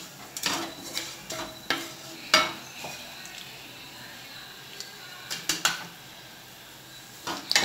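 Cinnamon and cloves frying in oil in a pan for a chicken gravy, with a soft background sizzle broken by several sharp scrapes and clinks of a utensil against the pan, close and fairly quiet.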